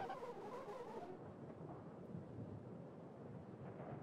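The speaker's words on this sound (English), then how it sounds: "The storm is blustering again" A blustering storm in the video game The Upturned: a steady, low thunderous rumble with rain-like hiss that fills the whole stretch at a fairly quiet, even level, with no voices.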